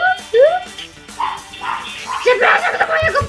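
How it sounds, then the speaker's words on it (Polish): A pet dog yelping and barking loudly indoors in repeated sharp bursts, with whiny yips between them and a person talking over the noise. "Przepraszam do mojego psa, który drze się, jak nie wiem co"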